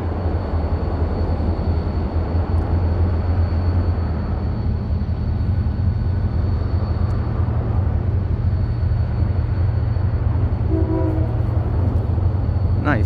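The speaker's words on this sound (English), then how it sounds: "He honked the horn for us." CSX freight train passing close and loud, a steady heavy rumble of rolling cars throughout with a brief horn-like tone near the end.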